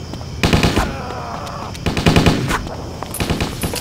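Rapid bursts of automatic gunfire come in two or three volleys during combat in the video game Stubbs the Zombie, loud and close, with soldiers' shouted voices mixed in.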